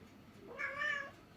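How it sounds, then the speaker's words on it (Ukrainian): A cat gives a single clear, drawn-out meow close by, rising and then falling, in a quiet indoor room. "Мяу-мяу."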